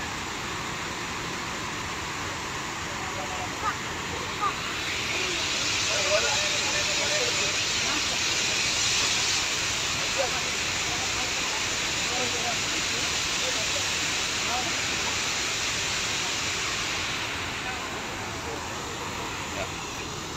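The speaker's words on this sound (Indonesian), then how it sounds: "ini bantalan arus deras harus dilewati oleh tim Basarnas" A swift river current roars through a giant dam in a broad, even rush of water that swells louder for several seconds midway before easing back, steady and unbroken throughout.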